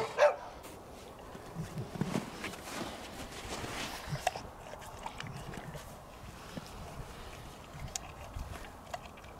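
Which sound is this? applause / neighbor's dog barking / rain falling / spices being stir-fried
neighbor's dog barking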